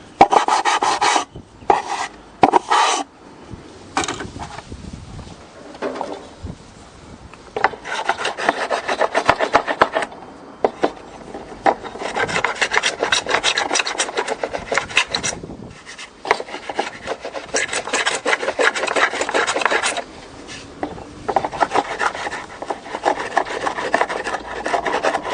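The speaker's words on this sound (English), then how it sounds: "you can also use a sanding stick" Rough, scratchy rasping of a sanding stick, a square piece of timber with sandpaper attached, rubbing wood while making a kantele, in irregular back-and-forth bursts, close up, with short pauses between runs.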